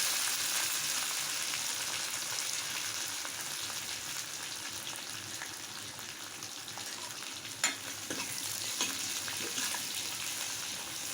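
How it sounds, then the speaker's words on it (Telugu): Dry red chillies, onions and seasoning seeds sizzle steadily in hot oil for a gongura curry, a continuous close crackle with one brief louder pop near the end. "వేసి తాలింపు గింజలు, మిరపకాయలు వేగుతూ ఉన్నాయండి"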